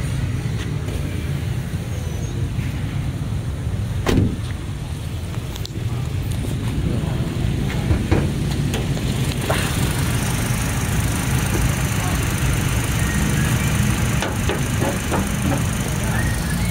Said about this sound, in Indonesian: Nah ini untuk kondisi mesin sangat halus